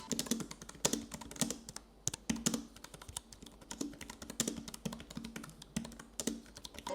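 Quiet, rapid clicking of keys on a low-profile scissor-switch keyboard in an Inateck iPad keyboard case, steady typing with soft tapping strokes close by and no talking.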